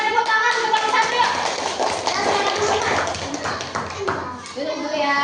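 Children in a classroom clap in quick, uneven taps, mixed with overlapping young voices and a teacher's speech nearby.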